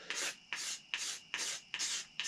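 Wooden tomahawk handle being scraped smooth with a razor blade after filing, five even rasping strokes in a steady back-and-forth rhythm, close and clear with no talking.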